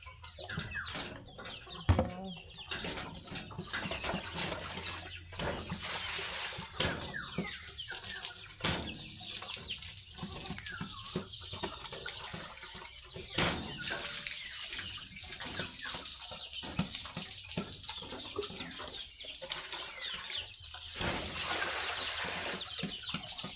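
Hens at a livestock farm cluck and murmur continuously, with occasional wing flaps and scattered louder calls against a steady high insect-like background hum.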